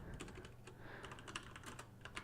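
Quick, light keystrokes tap on a computer keyboard while an invoice number is entered, a close, quiet run of irregular clicks with short pauses and no voices.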